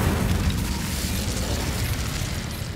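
An Incendio fire spell cast in Hogwarts Legacy bursts out as a dense, roaring whoosh that stays loud and steady for a couple of seconds, then slowly fades.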